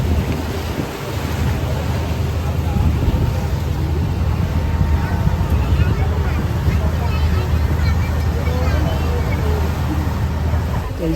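A passenger boat cruises from Alappuzha toward Kavalam jetty, its engine giving a steady low rumble mixed with wind buffeting the microphone, while people talk over it.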